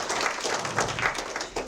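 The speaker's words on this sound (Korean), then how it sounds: "힘찬 박수로 맞이해주십시오." Steady, moderately faint applause from a forum audience welcoming a committee member to the front, a continuous wash of many hands clapping at a distance.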